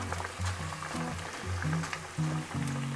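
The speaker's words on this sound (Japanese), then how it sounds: "麺を入れていきますよ。" Bucatini pasta dropped into a pot of boiling water, with a continuous bubbling, gurgling churn and faint clinks throughout, close and moderately quiet.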